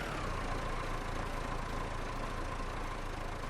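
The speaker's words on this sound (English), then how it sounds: "Let's back this tractor down out of the way here." A tractor in Farming Simulator 25 idles with a steady, even low engine rumble and a faint whine above it, continuous and moderately loud, with no voices.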